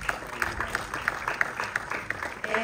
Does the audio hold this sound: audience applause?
yes